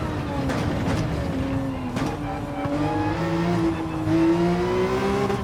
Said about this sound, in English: Full throttle through there when you catch the apex.